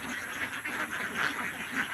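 Ducks (itik) being taken home, quacking in a steady chorus of repeated calls at moderate distance, with no talk.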